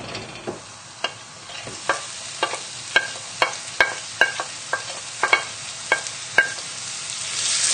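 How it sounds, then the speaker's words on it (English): Mushrooms, shallot and garlic fry in a tablespoon of olive oil in a pan for a squash and lentil stew, with a faint sizzle under regular scraping stirs of a utensil against the pan. "add in about a tablespoon of olive oil to the pan, and then we can add in the mushrooms"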